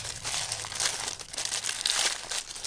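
Tissue paper is unwrapped from a Marvel Legends Black Widow action figure, giving close, continuous crinkling and rustling with small tearing bursts.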